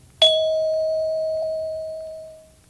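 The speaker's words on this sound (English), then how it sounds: "Just press the stop button when you hear the chime." A single bright chime from a children's read-along story tape strikes once and rings out cleanly, its tone slowly fading over about two seconds against a faint low hum.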